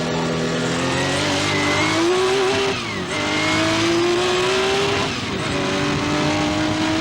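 Porsche 935 race car brakes and downshifts for the slow Mulsanne corner at Le Mans, the engine note dropping in sharp steps with blips between gears, loud and close, with no voices.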